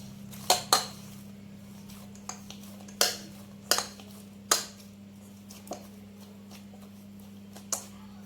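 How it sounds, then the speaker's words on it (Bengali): A lid lifted off and dough for vegetarian Mughlai paratha kneaded: a few sharp clattering knocks of metal, then softer irregular taps and handling noises, over a steady low hum. "ঢাকনা খুলে আবারও একবার ভালো করে মেখে নেব"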